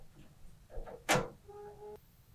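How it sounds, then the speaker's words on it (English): The front door of a commercial two-basket bench deep fryer swings open with a single sharp metallic clunk, followed by a faint ringing hum in a quiet room. "And when you open the front door"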